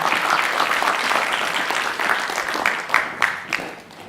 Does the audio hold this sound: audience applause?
yes